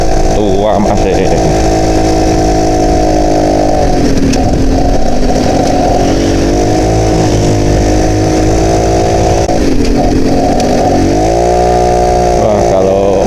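An old Yamaha Alfa 2R motorcycle labours up a steep mountain road, its engine droning loud and close with rising and falling revs through gear strain, while a rider talks over it.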